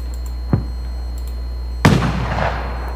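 Simulated fireworks in the game FWsim: a small sharp pop, then a louder booming burst that trails off into a long fizzing, crackling decay.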